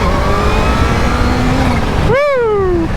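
Kawasaki Z H2 motorcycle launching from a standstill to 60 mph, a steady loud engine roar that climbs in pitch, then a sharp gear change and a rising whine that falls away, close and continuous with no talk.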